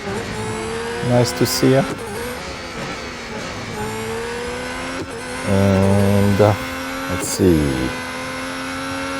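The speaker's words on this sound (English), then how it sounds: "these F1 cars" Formula 1 cars race in the Real Racing 3 mobile game at the British Grand Prix, engines whining and shifting pitch as they pass, with bursts of revving and louder surges, while someone talks over them.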